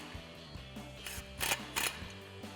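A T30 Torx bit snugs screws down during a Bestop Supertop soft top install on a Jeep Wrangler JL, giving a close mechanical whir with a few quick clicks and two short bursts of ratcheting noise.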